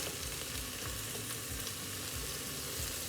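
Curry powder added to a frying pan with onions for an easy fish curry, producing a steady, soft sizzle and frying hiss with light stirring, alone and fairly quiet.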